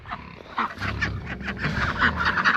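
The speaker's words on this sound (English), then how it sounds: "Hi, ducks." Ducks quack and honk in a noisy homestead farmyard in winter, a cluster of calls fairly close, with other animal sounds mixed in.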